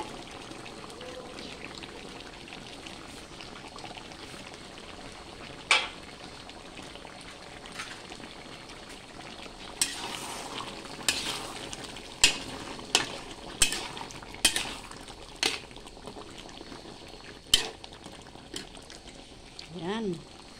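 Carrots dropped into a simmering pot of pork caldereta: a run of sharp plops and clatters in the middle, close and distinct over a steady low bubbling simmer, with scattered splashes before and after.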